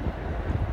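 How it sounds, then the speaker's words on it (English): Steady low roaring blizzard wind buffets the microphone in New York City, a dense rumbling rush with no pauses and no voices. "I tell you, it's windy. It's windy."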